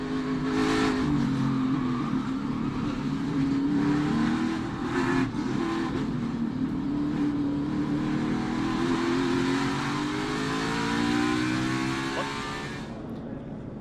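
A NASCAR Cup race car's engine heard onboard at Charlotte's Roval road course, a loud continuous roar rising and falling as the driver works the throttle through shifts, close and dominant throughout.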